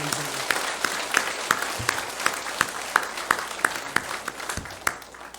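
A church congregation at a Sunday service claps for several seconds, the crisp hand claps falling into a fairly even rhythm across the room at moderate volume.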